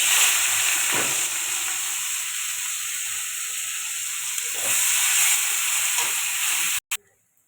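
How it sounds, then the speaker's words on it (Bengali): Continuous close sizzling of onions frying in hot oil, with occasional stirring clicks, cutting off abruptly near the end. "ওই তেলে পেঁয়াজগুলো দিয়ে দেবো"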